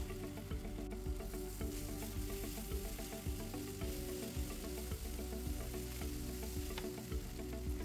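Onions roasting in a pan, a dense, steady sizzle and crackle throughout with occasional faint scraping as they are turned, quiet and continuous.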